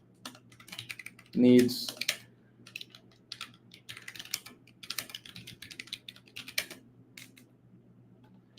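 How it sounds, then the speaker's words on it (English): Rapid clatter of computer keyboard keys being typed fast, a steady flurry of clicks close by, with a brief loud thump near the start and a voice speaking briefly. "As you can tell, I am typing very fast, so I made a few mistakes."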